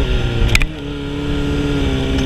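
A motorcycle engine idles steadily, with a short throttle blip to about 3,000 RPM near the start before it settles back to a steady hum, heard close and alone.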